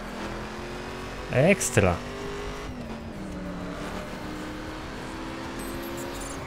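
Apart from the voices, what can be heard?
Ford rear-wheel-drive car at full throttle in video game The Crew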